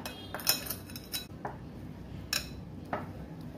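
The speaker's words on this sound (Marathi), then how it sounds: "आणि हे असं मॅरिनेट करून घेऊया पूर्ण।" A spoon clinks and scrapes against a bowl as paneer, chilli, onion and lemon juice are mixed into a marinade, giving several sharp taps at irregular intervals over a quiet kitchen background.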